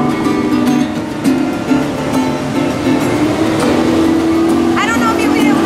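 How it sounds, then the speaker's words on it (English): Heavy trucks roll past outdoors, making a loud continuous rumble and engine drone. A voice talks over the traffic noise. "there's a lot of trucks going by."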